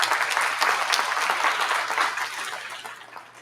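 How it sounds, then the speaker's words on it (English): An audience claps steadily at a national Saanen dairy goat show, a full even round of applause that slowly thins and fades over a few seconds. "Let's give a round of applause"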